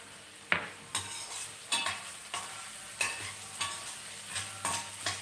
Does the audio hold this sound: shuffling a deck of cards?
no